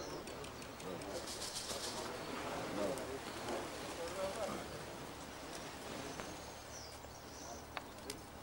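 Pigeons arrive and coo at a pigeon competition in Veria in 2013, with soft, scattered cooing and faint wing flutters set against a steady, fairly quiet outdoor hiss. No one speaks.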